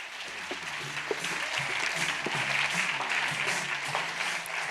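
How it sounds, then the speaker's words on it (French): A conference audience gives steady applause for Alexia Laroche-Joubert as she takes the stage, many hands clapping continuously, with a low musical tone running underneath. "Merci pour votre tonnerre d'applaudissements pour Alexia Laroche-Joubert"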